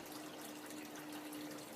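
Water flowing steadily into an aquaponics grow bed, a faint, constant trickle with a soft hum beneath it.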